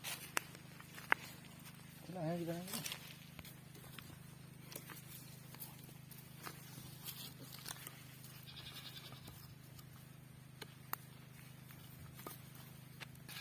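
A single short goat bleat rises early on, faint against a low steady hum, followed by scattered quiet knocks and shuffling.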